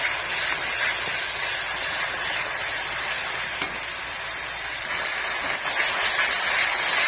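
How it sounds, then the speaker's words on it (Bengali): Spice paste for a Kabuli chickpea curry fries in a pan, giving a steady, dense sizzling hiss that stays even and close throughout with no talk. "এইভাবে ভালো করে মশলা ভেজে নেব।"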